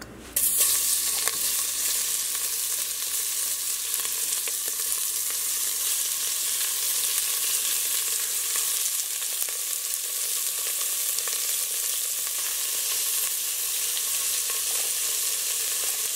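Vegetable oil frying in a pot over high heat gives a loud, steady, close hiss and sizzle that runs unbroken throughout, with no talking.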